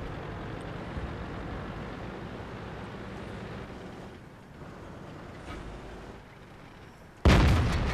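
Tank cannon in World of Tanks, a T26E4 Super Pershing battle, booms once loudly and abruptly at the end after a stretch of low rumbling engine and ambient battle noise.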